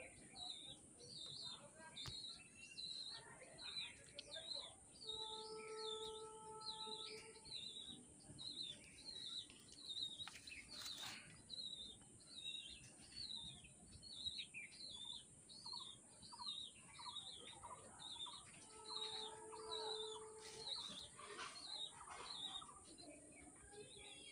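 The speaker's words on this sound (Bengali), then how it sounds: "এই একটা দেখুন জিরিয়া, ফটকা জিরিয়া পায়রা" Photka Jiriya pigeons in a loft with newly settled young birds, giving steady repeated high chirps that carry on throughout at a modest level, with a voice briefly heard in the background.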